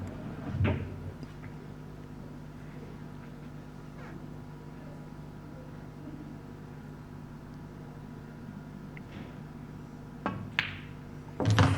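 A black ball is potted in a professional pool match at the Ultimate Pool Pro Series, heard as a few sharp, brief clacks and knocks against a steady arena hum, spaced several seconds apart with no talk over them.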